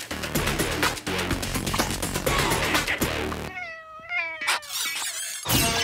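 Cats meowing in a winter village game scene, with several wavering meows and yowls that follow a dense stretch of music and effects, loud and close.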